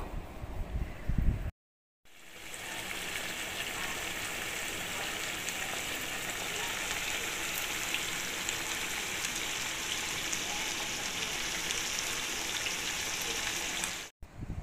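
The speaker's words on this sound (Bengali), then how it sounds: "গরম মশলার গুঁড়ো দিয়ে আরও ভালোভাবে আমি কিন্তু এটাকে কষিয়ে নেব" Chicken curry sizzling in a pan as garam masala powder is stirred in, a dense steady frying hiss that holds nearly unbroken, with a brief dropout near the start and no talking.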